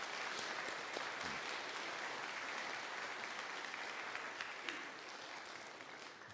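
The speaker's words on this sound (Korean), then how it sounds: "자리에서 일어나시면 우리 박수로 환영하겠습니다." Church congregation applauding steadily to welcome visiting family members during a Sunday service, a dense, even wash of many hands clapping throughout, fairly loud and sustained.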